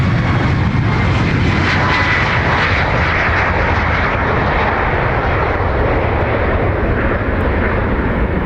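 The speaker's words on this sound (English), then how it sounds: "Sound difference in those LEAP engines." A jet airliner with LEAP engines at Dublin Airport gives a loud, steady roar that fills the whole stretch, close and unbroken, with no talk over it.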